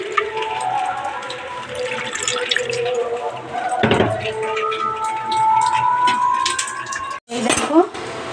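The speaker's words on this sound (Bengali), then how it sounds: "এইবার আমি জল দিয়ে দেবো" Water poured into a pan of hilsa fish curry in a home kitchen: a running, splashing pour, close and moderately loud, with soft background voices and a short clatter near the end.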